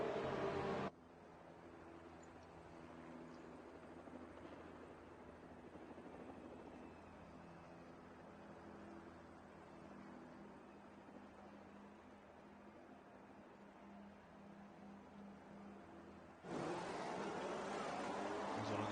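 Racing cars in a video game on the formation lap of a German round, a low, quiet engine drone under a steady hum, with a louder burst of engine noise at the very start and end.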